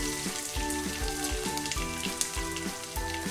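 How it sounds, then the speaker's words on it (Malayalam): Crushed coconut mixture sautéing in a pan for a papaya and cowpea thoran, a constant bright sizzle with a repeating rhythmic pulse running underneath, close and steady with no talking. "ഇനി ഇതിനകത്തോട്ട് നമ്മൾ ചതച്ച് വെച്ചിരിക്കുന്ന തേങ്ങയുടെ മിക്സ് ഇട്ടിട്ട് നന്നായിട്ടൊന്ന് വഴറ്റി എടുക്കാം."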